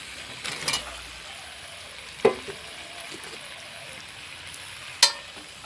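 Chopped eggplant frying with pumpkin and potato in a pan, a soft steady sizzle broken by a few sharp spatula clicks and scrapes, close and without talk.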